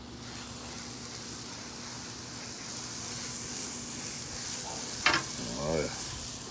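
Fish sizzling in butter on a Blackstone griddle, a steady dense frying hiss throughout with a brief scrape or clatter near the end.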